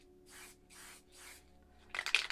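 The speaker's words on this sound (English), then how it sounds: "we'll just spray towards the stencil to make your cloud shapes" A can of Shock White Pure spray paint hisses toward a cloud stencil in three even, evenly spaced bursts, then a louder, harsher spray with rattling texture at the end, close and otherwise quiet.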